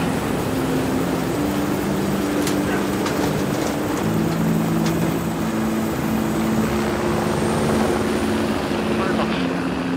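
A gendarmerie mountain rescue helicopter flies in the mountains, its steady rotor and engine drone continuous and fairly loud throughout, with voices talking underneath.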